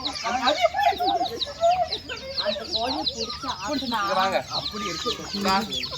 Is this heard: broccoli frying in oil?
no